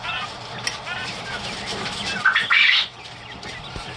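Two-week-old quail chicks chirp and squeak nearby, a brief burst of high peeping calls rising near the end over faint background noise.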